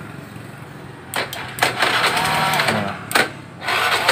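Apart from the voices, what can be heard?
Honda Vario scooter electric starter cranking and engine starting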